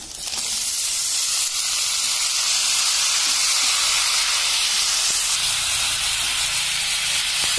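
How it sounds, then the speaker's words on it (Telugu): Cauliflower pieces drop into hot oil with fried ginger and garlic, setting off a loud, continuous hissing sizzle that holds steady throughout, close up and with no voices. "ఇప్పుడు ఇందులో క్యాలీఫ్లవర్ ముక్కలు వేసేస్తున్నాను"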